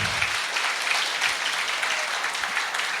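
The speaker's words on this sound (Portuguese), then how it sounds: "gostaria de pedir uma salva de palmas, por favor" Audience applause at an agricultural gathering, a dense, steady round of clapping from a crowd, fairly close and sustained throughout without a break.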